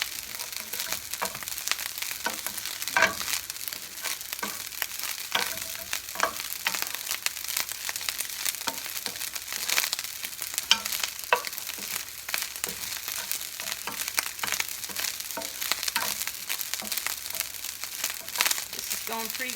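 Rice fries in a home pan, not a wok, with a constant close crackling sizzle and frequent scraping, crinkly stirring strokes throughout.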